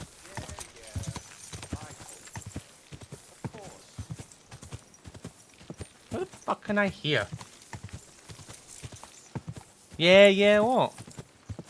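Horse hooves clip-clop steadily through a scene in the video game Kingdom Come: Deliverance 2, a regular medium-close rhythm running beneath frequent talking and a couple of louder vocal outbursts.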